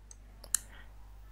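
A single faint computer mouse click on a software icon, a short soft tick heard alone in a quiet room.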